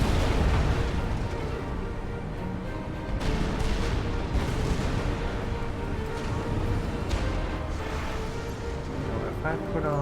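Flak cannons firing in Supreme Commander: Forged Alliance, a steady dense barrage of thumping anti-air bursts under game music and effects, with a voice talking over the din.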